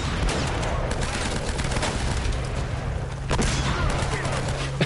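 Gunfire in the Uncharted video game, a steady stream of fairly quiet overlapping shots and bursts with a couple of sharper cracks and a low rumbling backdrop, with faint voices in the mix.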